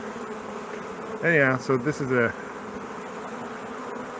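Stingless bees in Newfoundland drone as a faint, continuous buzz close by, while someone speaks briefly over it.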